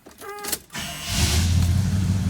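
1974 Pontiac LeMans sport coupe with a 350 V8 fires up: a brief electric whir and cranking, then the engine catches and settles into a loud, low, steady idle rumble, close by.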